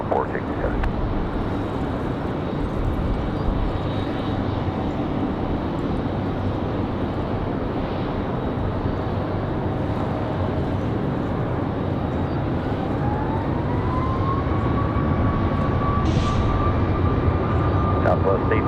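A Copa airliner takes off from runway 5 left at Raleigh-Durham International in windy conditions. Its engines give a broad, continuous roar that builds slightly toward the end, heard from a distance with wind noise.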